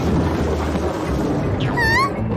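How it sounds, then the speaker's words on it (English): Cartoon thunderstorm at night: a steady low rumble of thunder and rain fills the scene, and near the end a short, rising wail like a meow cuts through. "It's a stormy night."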